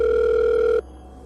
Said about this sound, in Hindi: एक अजीब फोन कॉल आया।